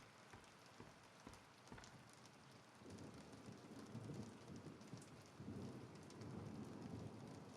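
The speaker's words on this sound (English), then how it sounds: "You hear the little pitter patter of the rain?" Steady rain pattering in the horror game Bendy and the Dark Revival, a soft wash of drops that thickens and grows louder partway through, with low rumbling underneath and no voices.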